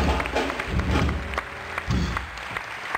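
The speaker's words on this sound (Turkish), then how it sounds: "Yılmaz Hoca'ya büyük bir alkış" Studio audience on a Turkish TV talk show applauding for Yılmaz Vural, with brief bursts of dense clapping that rise and fall, mid-distance, over a busy room.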